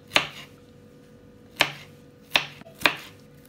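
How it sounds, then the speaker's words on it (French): A knife chops garlic on a board while a beef-tail ngombo stew is prepared: four crisp, close knocks spaced irregularly, each ringing briefly against quiet background. "L'ail, je coupe un petit aussi."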